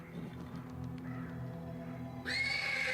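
A horse neighs from stables in the game Black Book, giving a loud shrill whinny that breaks out over a low ambient drone after a stretch of quieter background sound.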